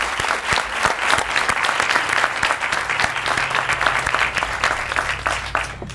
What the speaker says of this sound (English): the applause is very much warranted